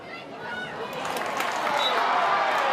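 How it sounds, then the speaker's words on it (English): Crowd at a Newcastle Jets versus Wellington Phoenix A-League football match breaks into applause, a broad wash of clapping and murmuring that swells steadily and stays loud to the end. "It receives the round of applause."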